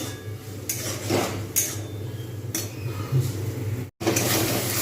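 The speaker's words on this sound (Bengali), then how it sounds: "আবার ফের নাড়িয়ে নেব" Utensils scrape and clink against a pan as cauliflower with tomato ketchup and puree is stirred in repeated bursts, a close kitchen stirring sound with a steady low hum underneath.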